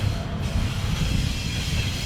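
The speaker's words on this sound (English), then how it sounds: "it's a CSX 450. In tow is a CP engine." A CSX 450 locomotive rolls past with a CP engine in tow, giving a steady, continuous low rumble of wheels and railcars close by, with no talk over it.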